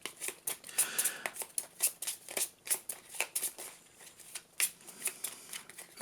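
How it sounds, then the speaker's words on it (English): Playing cards being shuffled for a Yu-Gi-Oh! Dark World test hand, with quick papery riffling bursts and taps repeating through the six seconds, close and fairly quiet, with no talking. "we'll shuffle these up and we'll just pick one at random off of the reveal for Nessie"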